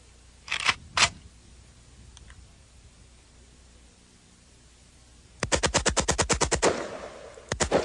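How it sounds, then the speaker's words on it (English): An AK-47 rifle firing fully automatic: two sharp single shots near the start, then after a pause a rapid burst of about a dozen loud, evenly spaced rounds, followed by a few more quick shots. "This is the fully automatic firearm. It's an AK-47."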